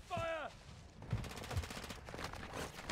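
Gunfire in the video game Warzone, a rapid burst of shots mixed with a rising electronic tone and game effects, moderately loud, with players talking over it.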